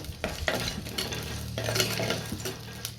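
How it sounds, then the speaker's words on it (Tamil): Steady crackling sizzle of fenugreek and cumin seeds frying in hot oil for fish curry, with occasional stirring and scraping of a utensil against the pan, close and continuous. "வெந்தயமும் சீரகம் நல்லா பொரிஞ்சு வரட்டும்"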